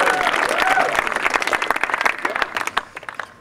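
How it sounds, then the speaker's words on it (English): A comedy club audience bursts into loud, dense applause that thins out toward the end, with scattered individual claps and a little crowd noise. "You guys clap now."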